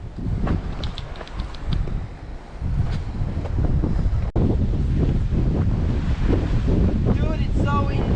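Strong wind blasting a microphone on a tropical shore while fishing, a loud continuous roar with gusts and surf washing underneath, steady throughout without any clear talking.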